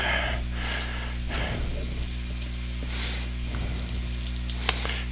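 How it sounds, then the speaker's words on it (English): Sandpaper rasps against hand-carved wood in a steady series of back-and-forth finishing strokes, close and fairly quiet, over a low background hum. "Now I have to do some finishing sanding on it"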